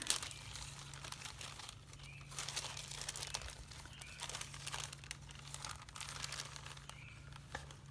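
Plastic parts bag for a Fox 5.0 fuel pump and gauge job being opened and rummaged through, with close crinkling and rustling in uneven bursts over a faint steady hum.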